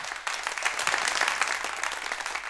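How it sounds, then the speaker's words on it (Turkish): A studio audience at a Turkish music show breaks into loud, dense applause after a short pause and keeps clapping steadily. "Kocaman bir alkış gelsin benim sevgili dostlarıma."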